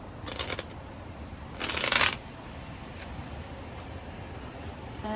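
Quiet, breezy outdoor ambience with two brief bursts of playing cards being riffle-shuffled, the second louder and longer, with soft fainter flicks afterward.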